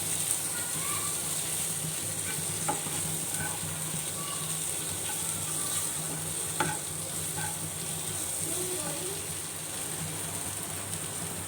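Egg and tomato ingredients fry in a pan with a steady soft sizzle, joined by occasional scrapes and taps of stirring, moderately close and even throughout, with no voices.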